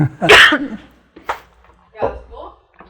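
A person coughing and choking in short bursts, with rough throat sounds close to the microphone between brief pauses, in an indoor talk-show setting.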